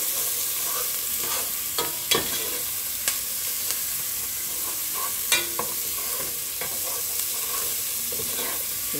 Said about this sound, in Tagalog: Sisiti lang natin konti yung ating sibuyas.